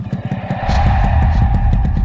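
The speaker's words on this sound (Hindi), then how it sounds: "उसने बाइक को टॉप गियर में डाला" A motorcycle engine revs up close and loud, its sputtering pulses merging into a steady roar as it shifts into top gear and speeds off.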